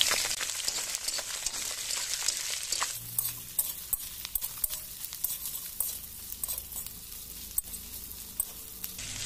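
Fish frying in a pan: a loud bright sizzle for the first few seconds gives way to quieter crackling with scattered sharp spatula scrapes and pops as the pieces are turned; no voices.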